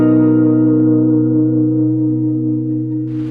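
Sustained electric guitar chord through a tape distortion plugin on a warm fuzz preset, with reduced noise and wear, ringing steadily and evenly loud for about three seconds before a short burst of hiss at the cutoff.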